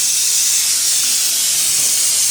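Mung beans hit hot oil in a home kitchen pan and sizzle, a steady, dense, hissing crackle that holds evenly throughout without pause or voices.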